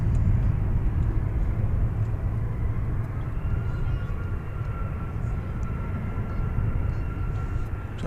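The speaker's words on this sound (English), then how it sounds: "We've got an American Eagle plane now launching off to Brownsville, Texas. It is an Embraer 175." American Eagle Embraer 175 regional jet taking off at DFW Airport, a steady broad engine roar and low rumble heard from a distance, constant throughout with a faint high whine.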